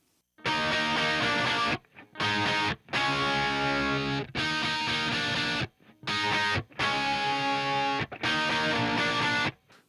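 Distorted electric guitar through a Marshall and a tiny Gallien-Krueger cabinet blended together, punchy chord phrases repeating in seven or so bursts with brief pauses, loud and close without speech.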